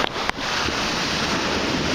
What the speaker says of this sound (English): the waves aren't too bad, but they're coming in spurts